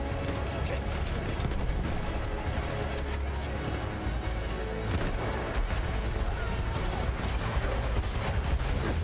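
Dense battlefield barrage in the World War I shooter Battlefield 1, with continuous heavy rumble, bursts of gunfire and explosions layered loudly throughout, and voices mixed underneath.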